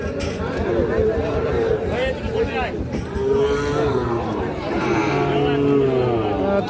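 Several cattle, including Sahiwal bull calves, moo loudly and repeatedly, close by, over a busy crowd of people talking all around at a cattle market.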